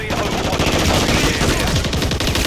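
Loud, unbroken automatic gunfire in a video game, rapid shots packed tightly together and holding steady from start to finish.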